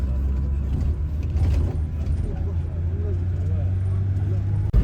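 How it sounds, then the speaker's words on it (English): A full shared van on the road from Tipaza to Cherchell, Algeria, gives a constant low engine drone and road rumble from inside the cabin, with passengers talking faintly underneath. "from here we have taken another shared bus, a shared van rather, to go to Washington"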